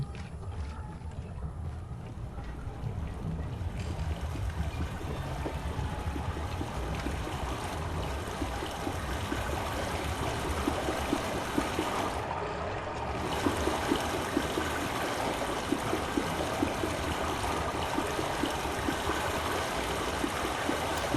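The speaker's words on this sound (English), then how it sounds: "Pipe water flowing." In Myst, water flows through a pipe as a steady, broad rushing wash with a faint trickle. It runs continuously for about twenty seconds without talk.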